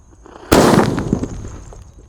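A Power Extender jumbo firecracker goes off buried in a hole in the ground, one sudden loud, deep blast followed by a rumbling, scattering tail that fades over a second or so.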